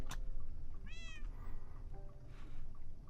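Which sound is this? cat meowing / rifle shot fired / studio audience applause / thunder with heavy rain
cat meowing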